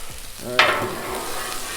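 Food sizzling on a Blackstone griddle with bacon grease, a soft steady crackle that swells with a brief louder hiss as something hits the hot surface, close and without talk.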